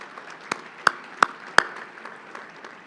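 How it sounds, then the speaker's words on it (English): A few sparse, isolated hand claps at a Chamber of Commerce monthly luncheon, four sharp slaps close together then fading into faint room noise. "if we could we give them a big round of applause"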